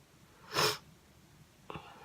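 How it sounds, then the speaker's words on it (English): Two short nasal sniffs from allergies close to the mic, the first a strong, breathy inhale, the second quicker and softer after a pause. "I apologize for any sniffles"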